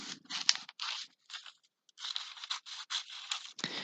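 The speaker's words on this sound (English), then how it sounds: "So I'm going to cut out the oval," Scissors snip around a dotted-line oval drawn on paper, a run of close, crisp cutting strokes with short pauses between bursts and a light paper rustle, with no one speaking.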